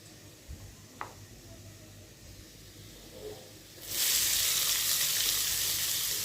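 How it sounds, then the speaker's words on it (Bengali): Chopped onion hits a hot pan for chicken momo, breaking a quiet start with a sudden loud, continuous sizzle that holds steady to the end. "দিয়ে দিলাম পেঁয়াজ কুচিটা।"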